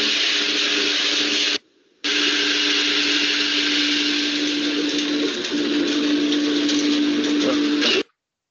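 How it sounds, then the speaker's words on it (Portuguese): A wood lathe turning a piece of wood in a woodworking class, giving a loud, steady whirring grind that cuts out briefly and then resumes for several seconds before stopping abruptly. "veja só como que é esse processo, né? De tornear essa madeira."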